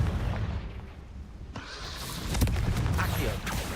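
A Confringo blasting spell in Hogwarts Legacy bursts with a booming explosion amid ongoing combat noise, followed by rumbling impacts and crackling debris.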